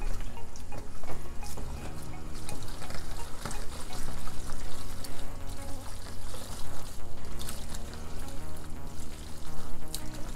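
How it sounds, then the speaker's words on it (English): Wet squelching and slopping as drained spaghetti is mixed by hand into tomato sauce for Liberian-style spaghetti, continuous and close, with irregular sticky bursts throughout. "I'll just use my thumb to mix the sauce and the spaghetti together"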